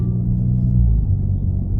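A Hyundai Sonata DN8 N Line 2.5T with a custom dual variable exhaust gives a low, steady rumbling drone heard from inside the car, even in level and unbroken throughout, with no voices.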